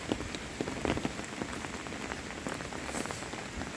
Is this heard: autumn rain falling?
yes